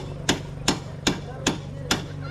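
Hammer striking, five sharp evenly spaced blows, close and distinct over a low background hum.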